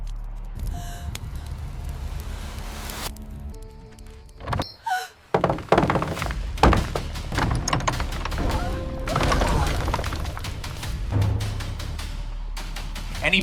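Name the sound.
pounding on a door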